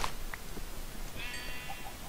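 A single sheep bleat from the video game Minecraft sounds faintly in quiet surroundings, with a few soft game sounds around it.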